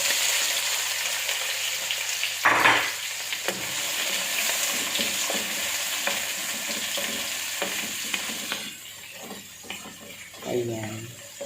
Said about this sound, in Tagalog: Habang niluluto natin yung sibuyas